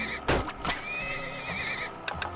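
Horses whinnying in the oil-drilling video game Turmoil, a few short neighs with wavering high calls and brief sharp bursts, fairly faint within the game's sound.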